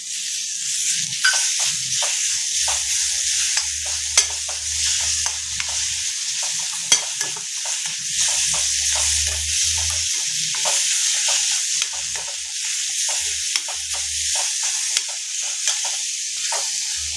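Chopped tomatoes fry in a pan for paneer masala, a steady close sizzle broken by repeated scraping and stirring strokes of a spoon at an uneven rhythm.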